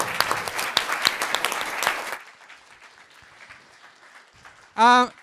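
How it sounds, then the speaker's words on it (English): Loud, dense audience applause for a team at a machine learning optimisation challenge event. It fills the first two seconds, then fades to a quiet room, followed by a brief tonal sound near the end. "Can you please put a big round of applause together for the negative team?"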